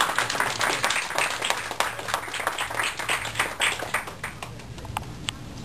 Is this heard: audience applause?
yes